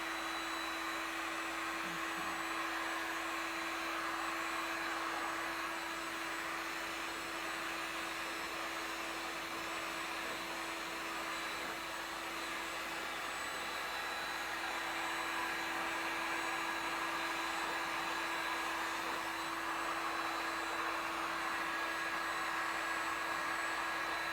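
A blower, probably a hair dryer, runs steadily over a setting non-toxic resin pour, a continuous even whoosh with a fixed hum that holds at one level for the whole stretch, with no talk.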